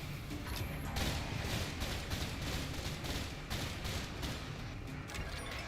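Dense, continuous video-game gunfire crackles through the whole stretch, rapid automatic bursts layered into a loud, steady barrage with no talk over it.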